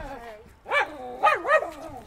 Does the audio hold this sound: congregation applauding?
no